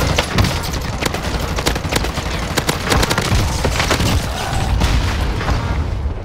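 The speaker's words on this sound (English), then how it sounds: "I'm getting shot from behind" Gunfire in Warzone rattles almost nonstop, sharp close cracks layered over heavy booming impacts and splintering hits in a loud, dense fusillade.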